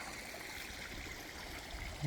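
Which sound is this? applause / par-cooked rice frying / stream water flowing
stream water flowing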